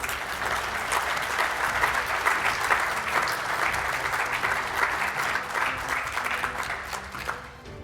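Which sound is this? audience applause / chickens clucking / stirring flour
audience applause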